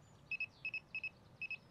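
Quick double beeps repeat four times, short high electronic tones in pairs with brief gaps between, faint and alone, from a Sonik Gizmo2 electronic fishing bite alarm signaling a drop back.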